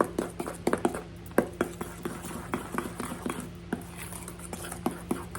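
Whipped topping being stirred into a coconut cream pie filling in a bowl, a run of quick irregular utensil scrapes and taps against the bowl, close and fairly loud, with a voice talking over parts of it.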